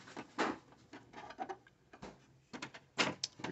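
A Canon imageClass printer has its top scanner unit lifted open, making a quiet series of plastic clicks, creaks and clunks in irregular bursts, with no voice over them.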